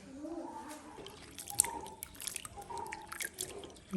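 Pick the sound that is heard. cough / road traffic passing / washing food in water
washing food in water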